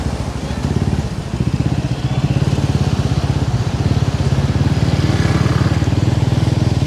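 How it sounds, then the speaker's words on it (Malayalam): A heavy Taurus tipper truck drives along the NH 66 Koyilandy bypass under construction, its diesel engine a loud, close, rapidly pulsing rumble that swells slightly as it approaches. "ഒരു വാഗാടിൻ്റെ വാഹനമാണെന്ന് തോന്നല്ലോ കടന്നു വരുന്നത് അതെ ഭൂമിയെ ഇളക്കി മറിച്ചുകൊണ്ട് വാഗാടിൻ്റെ ടോറസ്"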